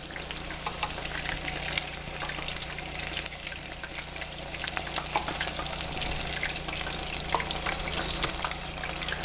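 Shrimp tempura deep-frying in a pan of oil gives a dense, continuous bubbling hiss with faint crackles throughout, steady and close without any talking.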